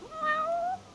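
Single clear meow from a cat in Final Fantasy XV, a rising then falling cry lasting under a second, close and alone without speech.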